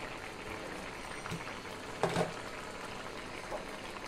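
Poa fish curry bubbles gently under a lid in a steady low simmer, with a brief louder burst of bubbling midway.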